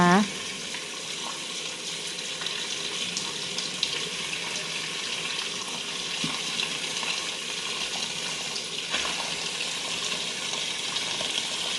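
Fish being washed repeatedly in running water for cooking, a steady gush of tap water splashing into a sink throughout, fairly close and continuous.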